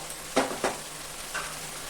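Spice masala frying in a pan for shahi paneer, a quiet background sizzle broken by two quick stirring scrapes and a softer third, close by with no voices.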